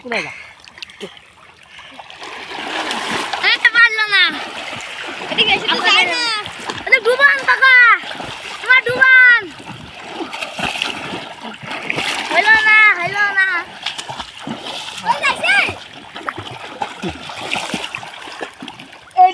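Children splash and play while swimming and bathing in water in a village, repeated sloshing splashes mixed with lively kids' voices and chatter throughout.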